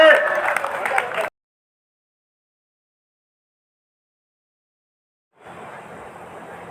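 Audience clapping at a Hindi poetry recital in Satna, Madhya Pradesh: a loud voice is cut off abruptly, silence follows, then steady, moderately loud applause comes in near the end.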